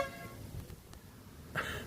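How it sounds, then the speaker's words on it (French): A short, fairly quiet tooting horn note on a van, tonal and held briefly, with a fainter tone at the start. "Et le klaxon qui est très sympa."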